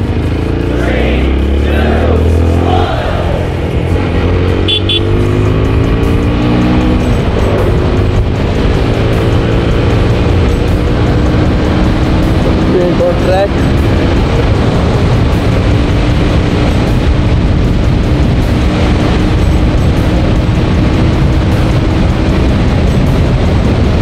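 A TVS Apache RTR motorcycle ridden hard in sports mode on a favorite road track, its exhaust droning loud and steady throughout with rising and falling revs under wind noise.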